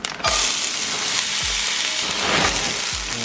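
Green garbanzo beans sizzle in a cast iron pan, a steady loud frying hiss with faint low thumps now and then as the pan or food shifts.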